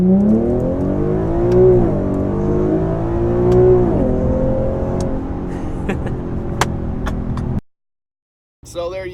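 A tuned 2015 Infiniti Q50 revs on a dyno in first gear, a loud, close engine pull with rising and wavering pitch over several seconds, then an abrupt cut to silence.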